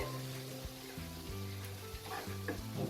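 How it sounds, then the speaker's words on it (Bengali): Egg biryani gravy simmering in a pan over the stove, a steady close sizzling and bubbling bed with a few soft clinks, no talk. "ঝোলটাকে আমি 2-3 মিনিট ফুটিয়ে নেব।"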